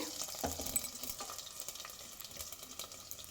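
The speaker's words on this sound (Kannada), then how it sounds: "ಬೆಳ್ಳುಳ್ಳಿ ಎಲ್ಲ ಚೆನ್ನಾಗಿ ಫ್ರೈ ಆದಮೇಲೆ ಕರಿಬೇವಿನ ಸೊಪ್ಪು ಹಾಕ್ಕೊಳ್ತೀನಿ" Garlic sputters in hot oil for horse gram rasam, a soft continuous close sizzle with small pops and occasional stirring clicks.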